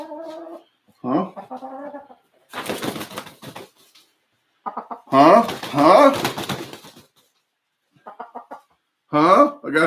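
A chicken dressed in a tutu clucks in short, choppy bursts, close by, alongside a person talking at intervals.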